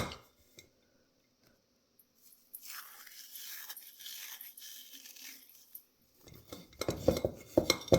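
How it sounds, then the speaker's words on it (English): Freeze-dried oregano is crumbled by hand into a jar, a dry rustling crackle that comes close up in bursts, then sharper crunching and clinks near the end. "I just crumble it up in my hands to get it to fit in the jar"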